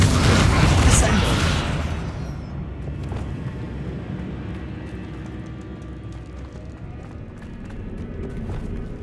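A Descendo spell effect cast in the video game Hogwarts Legacy, a loud whooshing burst with a heavy slam at the start that fades into a lingering low rumble, followed by quieter game ambience.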